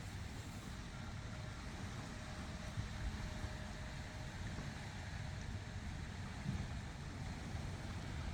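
Ocean surf and wind at the shore make a steady, even wash of broadband noise that runs unbroken from start to end, fairly quiet, with no talking.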